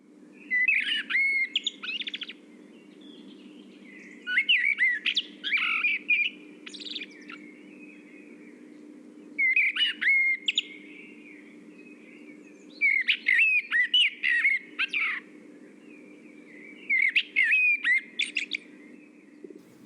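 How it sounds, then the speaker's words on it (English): A blackbird sings in a forest in repeated bursts of fluting, warbling phrases a few seconds apart. It is clear and fairly close over a soft, steady low hum, with no talk. "The blackbird flies down and lands nearby and begins its song again."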